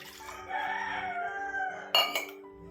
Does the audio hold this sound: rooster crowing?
yes